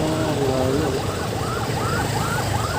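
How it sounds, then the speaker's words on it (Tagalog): An ambulance siren wails, rising and falling repeatedly in the distance over steady heavy road traffic in Lucena, Quezon, Philippines, near an overturned truck. "May mga ambulansya na."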